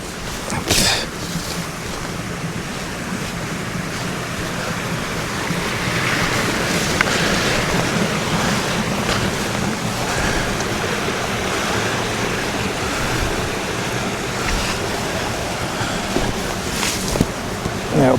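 Rushing river water flows steadily around someone wading across a river at Dams to Darnley, a continuous broadband wash with wind buffeting the microphone, near and fairly loud.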